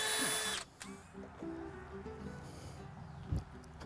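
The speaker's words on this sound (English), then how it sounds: "High-speed drill." A high-speed drill spins a mixing paddle through post-setting compound for deck rail posts, whirring close and loud, cutting out, then running in a few short, uneven bursts.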